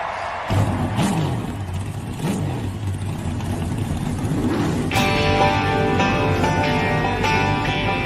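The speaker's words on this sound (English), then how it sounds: "Driver, start your engine!" A race car engine at an oval track fires up and revs, rising into a sustained, buzzing mid-range roar with strong harmonics, close and loud with no talk over it.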